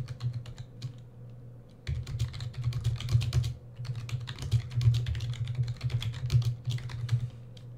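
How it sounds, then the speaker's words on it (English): Typing on a computer keyboard while writing in Microsoft Word, a quiet patch and then a dense run of close key clicks. "There's the Enter key to go to the next line. And then there's the Tab key for spacing."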